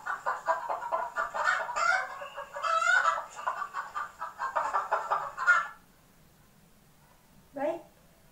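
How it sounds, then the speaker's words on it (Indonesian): A hen clucks in a busy, steady run of overlapping calls for about six seconds, then falls silent before one short, rising cluck near the end. "Baik, itulah tadi suara ayam betina."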